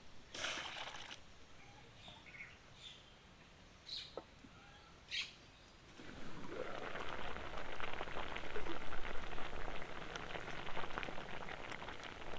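Chopped green jackfruit boiling in a pot, a steady dense bubbling hiss that swells in after a few quiet kitchen clinks and stays loud and even to the end, with no talking.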